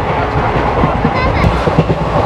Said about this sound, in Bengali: শক্তিপুঞ্জ এক্সপ্রেস বেশ শক্তি সঞ্চয় করে ছুটে চলেছে।